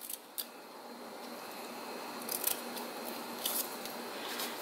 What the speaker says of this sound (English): I'm going to just cut a banner tail with my snips